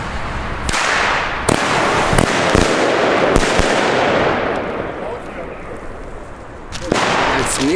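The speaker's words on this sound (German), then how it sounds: "Jetzt geht die Dumbum Triple, und zwar doppelt geschossen" A rapid series of sharp firework bangs from a Dumbum Triple battery, double-shot, several loud cracks in quick succession, then a pause and a final burst near the end.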